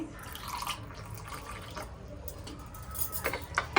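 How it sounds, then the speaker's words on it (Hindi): Cold water poured into a glass of fennel sharbat, heard as a faint splashing, trickling stream with scattered drips, growing slightly louder toward the end. "और ठंडा पानी।"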